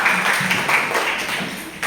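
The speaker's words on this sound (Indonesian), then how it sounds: "tepuk tangan untuk kita" Students in a classroom applaud as a group, a dense, steady wash of clapping that stays fairly loud throughout the short burst, with no clear voices on top.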